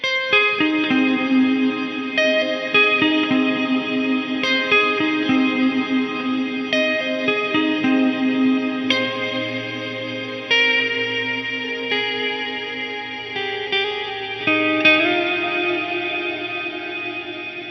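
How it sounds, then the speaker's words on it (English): Sustained guitar tones through an Eventide H9 MK2 wash out into long delay repeats and a spacious shimmer reverb tail, layered and shimmering, with no talking over it. "I really like a lot of the delays and reverbs on here"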